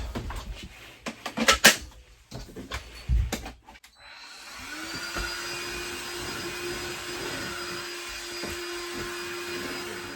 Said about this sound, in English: like our vacuum cleaner, which I will use in a moment